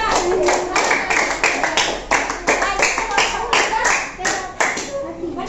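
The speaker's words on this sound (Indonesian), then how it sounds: "kasih tepuk tangan buat kelompok 2" A small group of students claps in a classroom, a ragged burst of separate, close hand claps with an uneven rhythm that rises and falls over several seconds, with a bit of voice mixed in.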